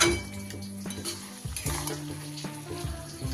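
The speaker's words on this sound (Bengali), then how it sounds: "মিনিট 2 ভালো করে এইভাবে নাড়াচাড়া করে নিলেই কিন্তু হয়ে গেল" Banana flower curry with coconut being stirred in a pan: a close sizzle broken by repeated scraping and clinking of a spoon against the metal pan, rhythmic and uninterrupted by voices.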